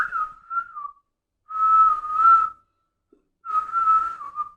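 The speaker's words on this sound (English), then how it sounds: "If you whistle at night, you'll attract snakes." A person whistles three separate tuneful phrases, each a clear, fairly loud sustained tone with gentle pitch bends, separated by short silences, with no talking.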